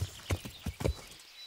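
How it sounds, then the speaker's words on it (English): Horse hooves clip-clop in Kingdom Come: Deliverance, a medieval video game, with about four distinct, close hoofbeats in an uneven gait before falling quiet. "mount our horse"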